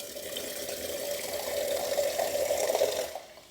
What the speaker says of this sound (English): But I don't know if anyone has sparkling water tap.